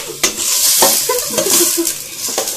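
Chicken sautéing with garlic in a hot pan sizzles steadily while a utensil scrapes and clanks against the metal in a few irregular strokes, close and fairly loud.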